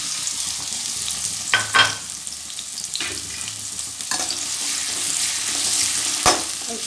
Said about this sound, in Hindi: ऑयल गरम करेंगे पहले। अब हम इसमें पहले ऑनियन डालेंगे